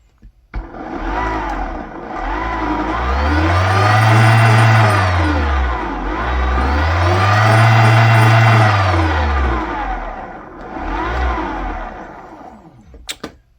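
A TOSEVEN DM01 1000 W e-bike mid-drive motor runs on throttle on a wooden surface, whining up in pitch, easing off and rising again in two long swells, then a shorter burst, loud and close.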